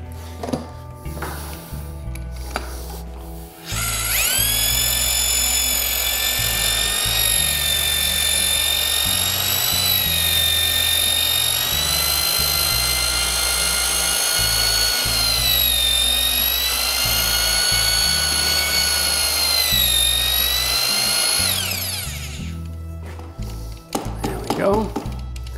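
Power drill with a mixing paddle whirs steadily for about twenty seconds, churning drywall joint compound thinned with water in a bucket, loud and close, starting and stopping abruptly.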